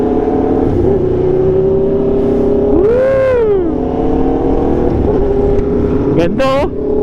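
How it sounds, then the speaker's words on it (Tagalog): A motorcycle engine drones loudly and continuously, with wind noise and a couple of pitch-sliding tones rising and falling over it, heard while riding across a bridge to Sitio Manibukyot, Tarlac. "Hindi ko na marinig yung motor ko, ingay ng motor niya."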